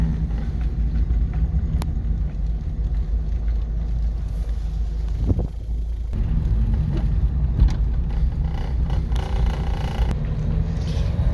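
A 1956 Ford Anglia 100E runs with a low, steady engine rumble heard from inside on a test drive, joined by road noise and some wind buffeting on the microphone.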